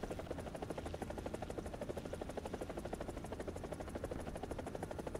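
A helicopter in the video game War Thunder drones with a steady, rapid rotor chop and engine buzz, continuous and even throughout, with no talking.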